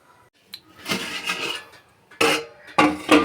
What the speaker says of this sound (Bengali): এবারে কেকের মোলটা দিয়ে দেবো। দিয়ে একটা ঢাকনা চাপা দিয়ে দেবো।